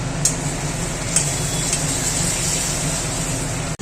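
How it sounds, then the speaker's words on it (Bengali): Spice paste frying slowly in a covered pot with a little oil, cooked for biryani on a cyclone day, giving a continuous close sizzle and hiss with a couple of faint clicks and no voices. "আর এখানে মশলা কষছে"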